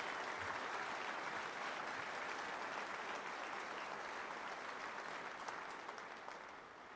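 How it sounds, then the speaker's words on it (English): Audience applause honoring soldiers at an indoor Army arrival ceremony for the Secretary of the Army: a steady, fairly distant wash of clapping that holds evenly for several seconds, then begins to fade. "so how about a round of applause for all of them?"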